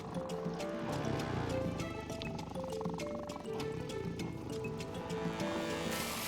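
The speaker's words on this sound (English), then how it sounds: "I'm going to try and fill my cart with water" Water pours steadily into a cart in the Fort Boyard (2019) game on Xbox One, a continuous splashing stream layered with tonal game sounds.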